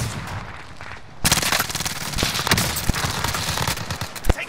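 Rapid automatic gunfire in Call of Duty: Modern Warfare starts abruptly after quieter scattered shots and keeps up as a loud, close stream of cracking rounds.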